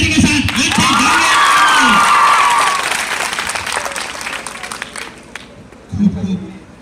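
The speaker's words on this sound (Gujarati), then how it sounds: "जोरदार ताली के साथ आज से जाएंगे" A school farewell audience in Bhinar breaks into loud, sustained applause and cheering with children shouting, fading after a few seconds before a voice speaks near the end.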